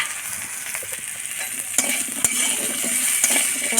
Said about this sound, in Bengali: ডাঁটাগুলো নিয়ে ডাঁটাগুলো একটু ভেজে নেব